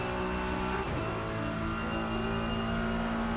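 Race car engine in a driving game, a continuous loud, buzzy drone whose pitch dips briefly and then climbs again while the tyres are being warmed, no voices.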